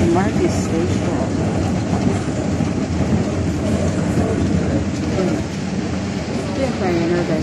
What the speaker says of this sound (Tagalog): Now guys, I'm here at Theater MRT Station.